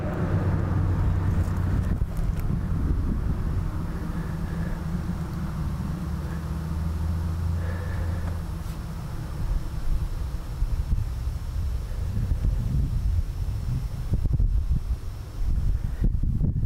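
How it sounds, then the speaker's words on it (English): An afternoon breeze buffets the microphone outdoors, a continuous low rumble and whoosh that rises and falls in gusts over many seconds, with faint rustling and no talking. "you probably hear in the microphone, there's quite a little breeze blowing this afternoon"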